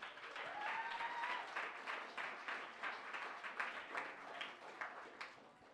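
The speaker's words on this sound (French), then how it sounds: "une bonne main d'applaudissement pour eux autres" People at a bistro event clap for the restaurant staff, servers and cook, in a faint, distant patter of applause with a brief whistle early on.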